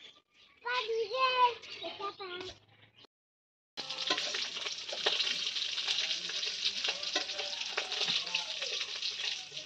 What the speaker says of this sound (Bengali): ওদিকে মাছের কাঁচা কুঁচা ভাজতেছে